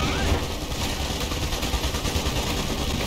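Gunfire in the strategy game Iron Harvest rattles in dense, continuous volleys of machine-gun and rifle shots, loud and sustained, layered over battlefield noise with no clear pauses.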